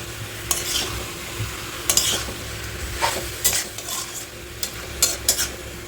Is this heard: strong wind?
no